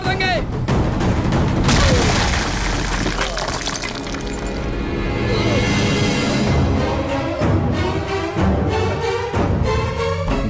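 A gunshot goes off in a dramatic Hindi film scene, a loud booming crack with a broadband burst early on, followed by dense, echoing sounds and voices speaking in the background.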